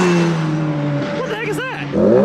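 Radical SR3 race cars passing on a track, a high-revving small-displacement engine note sweeping up and down as they go by, then another car accelerating, with a voice briefly heard.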